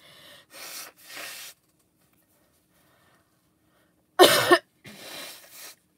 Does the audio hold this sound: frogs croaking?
no